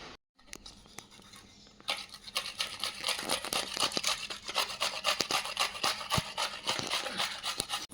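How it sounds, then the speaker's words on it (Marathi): Cucumber, skin and all, being grated by hand for cucumber parathas, heard up close as a steady run of scraping, rasping strokes with sharp clicks, starting after a short pause. "चला तर आपली काकडी अशी किसून झालेली आहे"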